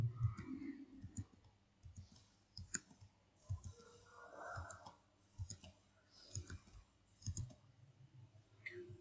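Computer mouse clicked repeatedly while working in a Microsoft Word document, a string of faint, close, irregularly spaced clicks over quiet room tone.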